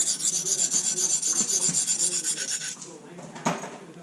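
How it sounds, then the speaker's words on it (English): Knife blade rasping back and forth on a sharpening stone, steady rhythmic strokes for nearly three seconds, then quieter scrapes and one sharp final stroke, close and alone. "now we're going to switch sides on our stone, and now we're going to refine that burr, smooth it up, and then get rid of it"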